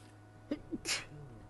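A single sneeze during a morning safari drive: a quick breathy intake, then a sharp hissing burst, quiet and somewhat distant in an otherwise hushed setting.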